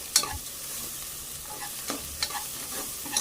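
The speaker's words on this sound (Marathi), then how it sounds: "हे पण एकदा चांगलं परतून घेऊया" Spices for Rajasthani panchmel dal are sautéed and stirred in a pan, giving a faint sizzle with a few light scrapes and clinks scattered through it and no talking.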